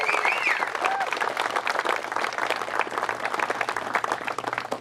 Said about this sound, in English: let's give a big round of applause for these two terrific couples